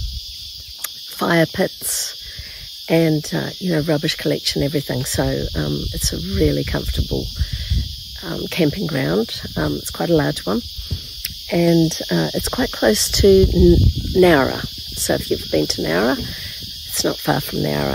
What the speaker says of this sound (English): You can hear the birds and the cicadas in the background.